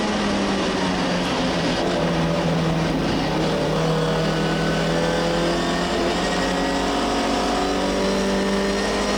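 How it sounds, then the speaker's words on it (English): An MGB race car engine at Donington Park pulls hard through the gears on a straight, a steady loud drone whose pitch climbs and drops with each shift, heard continuously from close in the cockpit. "Through the gears, probably topping out about 105 miles an hour here"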